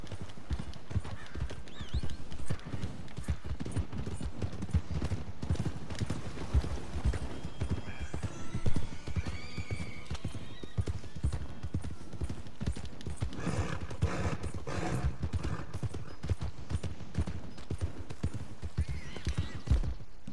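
Horse hooves clip-clop steadily and close in Red Dead Redemption 2, a rhythmic trot running throughout with an occasional whinny and faint background voices.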